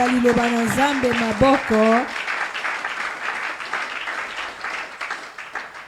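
A church congregation breaks into applause for the word of God during a sermon on the Holy Spirit. A voice speaks briefly before it, then broad, steady clapping fills the hall for several seconds.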